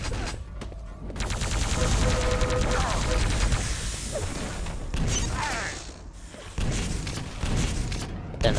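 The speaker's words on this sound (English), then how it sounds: "Don't know who's shooting me." Rapid gunfire and explosions in the video game Quake 3 Arena, dense and continuous bursts of shots, loud and close, with brief dips between volleys.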